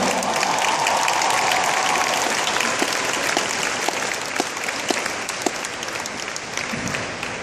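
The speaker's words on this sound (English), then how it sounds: "Give yourselves a round of applause." A convention crowd claps steadily in sustained applause, dense and even throughout, with occasional louder individual claps standing out.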